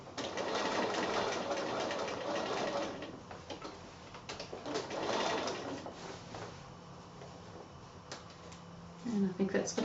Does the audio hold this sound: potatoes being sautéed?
no